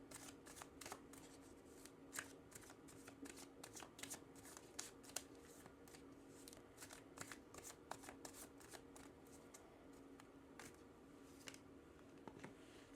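Tarot energy cards are shuffled and drawn close by: a quiet, continuous run of riffling, flicking card snaps with no talk over them.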